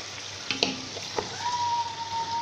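Chicken fries with tomato paste in a pan for a Moroccan-style dish, giving a steady close sizzle. A few light scrapes and clicks of stirring break through the sizzle, and a thin tone runs through the second half.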